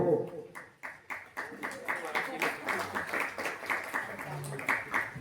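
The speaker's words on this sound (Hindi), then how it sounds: "क्यों भाई ताली क्यों बजा दी?" Audience at a Hindi religious sermon in Pune claps in a sustained round of rhythmic applause, many hands together at moderate volume, steady from start to finish.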